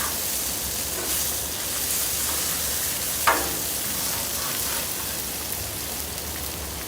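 Cabbage and sausage sizzle loudly on a Blackstone griddle, a steady dense crackle with a brief scrape partway through and no voices.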